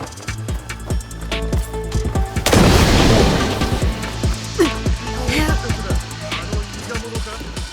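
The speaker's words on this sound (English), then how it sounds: "Throw the bomb down!" Bomb blast in Assassin's Creed Shadows bursts loudly midway, with a broad rumbling boom that lingers, surrounded by sharp clanks, scattered pops and hits before and after.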